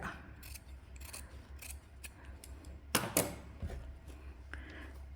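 Scissors cut through canvas fabric to shape a neckline. The blades make quiet crisp snips in an uneven rhythm, with one sharper, louder cut midway, close by and with no one speaking.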